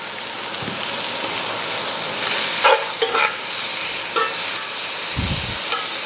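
Seasoned steak nuggets sear in a hot pan with a loud, close, steady sizzle, broken by a few bursts of crackle and brief low thumps as the pieces are moved and stirred.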